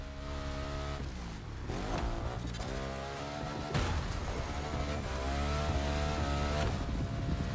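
A BMW R1200 GS motorcycle rides off-road in The Crew racing game, its engine droning and revving steadily in the foreground, with pitch rising and falling over several seconds.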